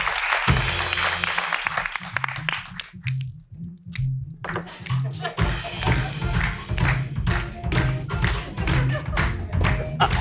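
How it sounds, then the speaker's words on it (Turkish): A studio audience on a Turkish late-night talk show claps steadily under thumping band music, with voices talking over the applause. "Alkışlıyoruz hanımefendi"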